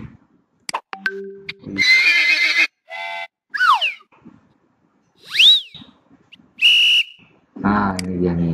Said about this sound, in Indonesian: soundnya kita tambahkan dengan periwitan. Periwitan itu apa? Whistle ya, whistle.